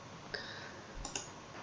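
A few faint, sharp computer keyboard clicks as shortcut keys are pressed in Affinity Photo: one tap, then a quick pair, and a last soft tick, quiet against a low background hiss.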